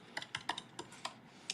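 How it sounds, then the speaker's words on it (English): Fingers tap a computer keyboard in an irregular run of crisp clicks, about eight keystrokes close and clear over a quiet background, with no talking. "Typing."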